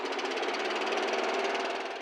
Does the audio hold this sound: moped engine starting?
yes